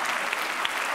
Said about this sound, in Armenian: հիմիկվանից սկսած ենք ծափարում